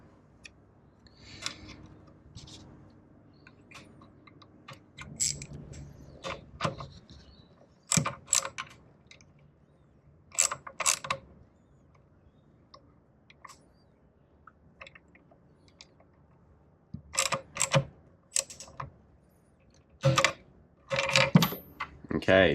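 A key being mounted into the clamp of a DEFU 368A key cutting machine, giving scattered sharp metallic clicks and ticks in uneven bursts over a quiet background, with soft speech in between.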